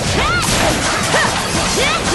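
A sturdy object smashed apart in the video game Ys X: Nordics, heard as a burst of crashing, whooshing impact sounds over a busy, continuous game mix with no clear single hit standing out.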